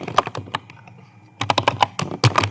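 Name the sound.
typing a kitchen name on a computer keyboard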